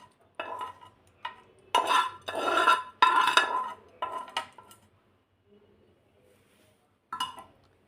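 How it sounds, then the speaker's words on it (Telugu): Cooled peanuts tipped into a mixer grinder jar: a few clustered rattling, clinking bursts of nuts hitting the jar, then near-silence before one last short rattle. "మిక్సీ గిన్నెలో ఇవి చల్లారిపోయినాయి కదా, ఈ పల్లీలు ఇవన్నీ ఇందులో వేసుకోవాలి"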